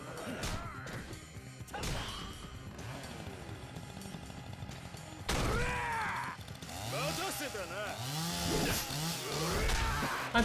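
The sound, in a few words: chainsaw running, from the video game Yakuza 4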